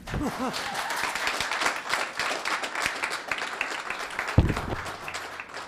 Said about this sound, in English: Now you can clap if you'd like